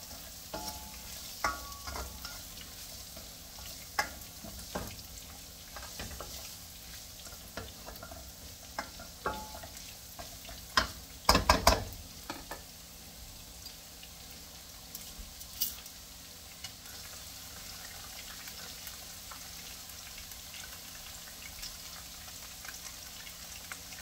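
Garlic frying in a pan while being stirred, a faint steady sizzle broken by soft scraping clicks and a brief louder clatter midway.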